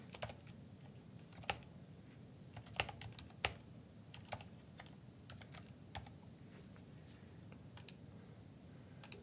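Keys clatter on a computer keyboard as a proposal is typed into a YAWL workflow form: irregular, close, crisp keystroke clicks with a few sharper taps, over a low steady room hum, with no voices.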